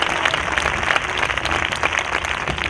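An audience at a church sermon breaks into applause, a dense, sustained wash of many hands clapping at once, loud and close throughout.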